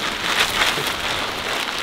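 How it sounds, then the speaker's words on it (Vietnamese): Heavy rain pours steadily onto surfaces in a rural farming area, a dense, continuous hiss that stays loud and even throughout with no voices. "mưa rất là to nhé"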